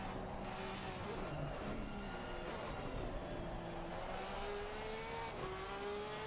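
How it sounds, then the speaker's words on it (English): Porsche GT3 race car engine at Bathurst in an esports GT3 sim race, a steady rising and falling engine drone with harmonic whine, continuous and moderately loud throughout, with faint commentary voices underneath. "Such a nice sound on this Porsche."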